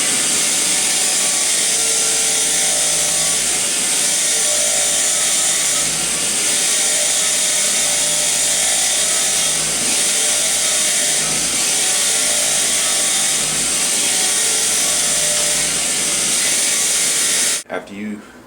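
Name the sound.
wire brush grinder cleaning motorbike engine valves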